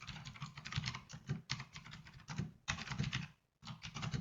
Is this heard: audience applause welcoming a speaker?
no